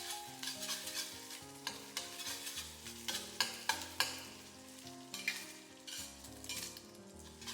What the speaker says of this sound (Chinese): 底部煎至定型之后，用铲子将鸡蛋划散